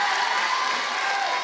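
A church congregation applauds during a sermon on grace, a dense, steady wash of clapping from many hands that fills the room evenly throughout.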